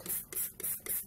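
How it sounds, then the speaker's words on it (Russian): A Faberlic spray bottle mists water onto small food containers in four quick, close hissing bursts in steady succession, with no talking. "немножко вот сбрызнули эти судочки водой"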